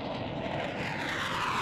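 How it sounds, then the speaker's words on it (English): An airplane in the Roblox game flies past, its steady, broad engine roar holding loud and continuous for the whole moment with no talking. "there's the plane."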